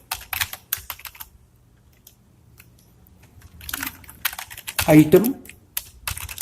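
Computer keyboard keys clatter in scattered bursts while someone types code, with a denser cluster of keystrokes near the end and someone talking at times over the typing.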